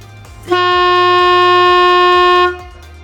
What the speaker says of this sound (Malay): menghasilkan bunyi horn yang berkekuatan 150 dB diambil dari sistem air horn yang terdapat pada lori